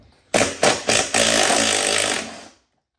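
Power tool, likely an impact wrench, removing 12 mm seat slider bolts from a Mazda Miata seat, with three short loud bursts followed by a sustained run of about a second and a half, close up, no talking.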